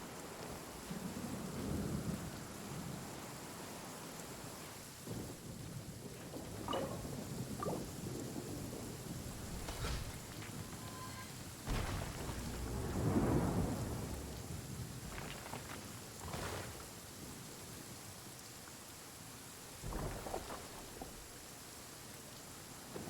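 Rain and rolling thunder in the Genshin Impact video game: a steady wash of rainfall runs throughout, with several thunder rumbles and sharper cracks rising over it, one loudest near the middle.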